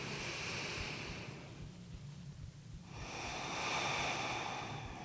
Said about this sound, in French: Une dernière respiration ici.